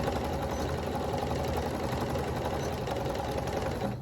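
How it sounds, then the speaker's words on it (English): A sewing machine stitches straight across a rag quilt bag made without cut blocks, its steady close mechanical whir running continuously with a fine, even motor buzz and no pauses. "I'm just sewing straight across on mine"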